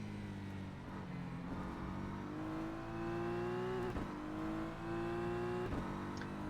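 A BMW M4 GT3 race car driven at Daytona in rFactor 2: a steady engine note climbs through the gears and briefly drops at each upshift. The engine is at moderate volume with no talking over it.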